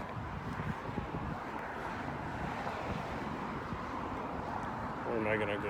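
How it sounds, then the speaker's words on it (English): Steady wind rumbling and buffeting against the microphone outdoors, a broad continuous roar that stays loud throughout. "now it's getting windy"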